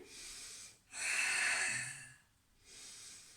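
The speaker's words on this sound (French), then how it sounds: "Voyez comment j'expire? Par la bouche lorsque je monte." Breath pushed out through the mouth during an ab crunch in a home fitness routine: two long, breathy exhales, the second stronger and rising in force, separated by a brief quiet gap, close and fairly soft with no talking.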